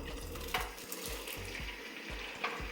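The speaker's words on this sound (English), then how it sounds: "I have my wok heating here on medium-high heat with some oil in it" Eggs fry in hot oil in a wok over medium-high heat, giving a steady, close sizzle with a few soft bumps and scrapes throughout.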